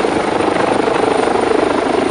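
An HH139 search-and-rescue helicopter lifts off backwards during an airshow demo at Jesolo, its rotor and engine roar loud, dense and continuous at close range.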